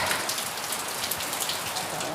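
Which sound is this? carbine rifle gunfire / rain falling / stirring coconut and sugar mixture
rain falling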